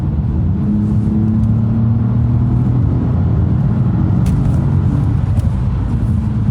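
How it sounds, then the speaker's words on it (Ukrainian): A DS3 Crossback with a 1.2 turbo engine accelerates at full throttle from about 70 km/h, a steady loud cabin rumble with a droning engine note and road noise, no voices. "Ось ми їдемо 70 км за годину і натискаємо педальку в пол."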